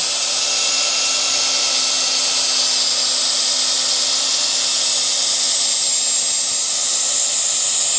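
A steady, high-pitched whine of a battery drill running continuously at constant speed, loud and close, with no talking.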